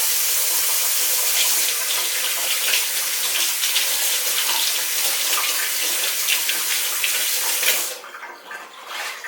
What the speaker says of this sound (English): So I'm gonna go wash my hands with some soap.